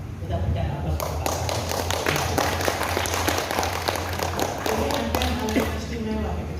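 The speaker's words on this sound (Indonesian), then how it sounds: "Kita berikan aplaus kepada" Audience applause at a Muslim community ceremony in Sukolilo, Surabaya: steady crowd clapping fills the stretch under a speaker's amplified voice, fairly loud and continuous.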